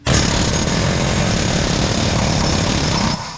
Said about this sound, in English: Get the air hammer. It'll pop that thing right out.